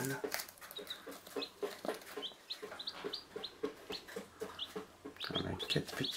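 Hens cluck and chicks cheep in repeated short calls close by, along with farmyard bird chirps and quiet talk from people nearby.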